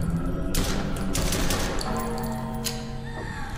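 Heavy-recoil gunfire in a first-person video game, a loud sustained burst of rapid shots followed by a few scattered single cracks and a lingering ringing tail.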